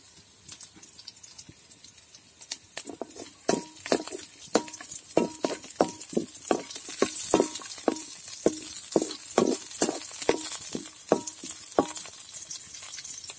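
Garlic, ginger and green chillies frying in a pan, a steady sizzle under a regular run of sharp spatula scrapes and taps against the metal, with no talking.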